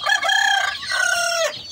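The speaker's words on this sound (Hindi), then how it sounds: "और देसी मुर्गा भी है हमारे पास, आप ये देख सकते हो।" A desi rooster crows once, loud and close, with a full, drawn-out crow in two long harmonic phrases lasting well over a second and no voices.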